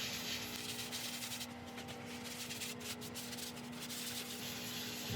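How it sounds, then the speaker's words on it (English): A steady, close rubbing hiss runs throughout as an elm bowl is buffed by hand on a spinning woodturning lathe, with a constant motor hum underneath. "I'm going to buff half of this by hand with the lathe spinning"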